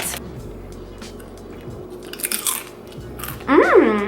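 Someone chews and crunches a bite of feta-style cheese close to the mic over a low background hum, with a brief exclamation of voice at the end.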